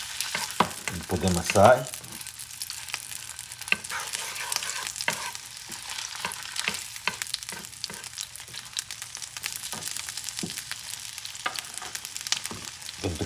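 Scallops sizzling in a hot pan for seafood ramen, a steady crackling fry with scattered pops and scrapes running throughout, close and fairly loud, with a brief spoken line near the start.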